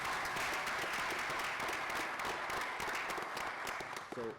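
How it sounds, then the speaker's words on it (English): An audience at an international public-private partnership forum applauds in a conference room, a sustained, even clapping from many people that fades slightly near the end as a voice begins. "So I wanted to give him a round of applause for all of that."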